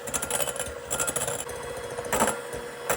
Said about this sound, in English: these egg whites have whisked very, very good to become very frothy